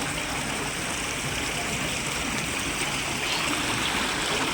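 Floodwater rushes steadily and fairly close after nonstop heavy rain in Vajedu, a dense continuous wash with no voices.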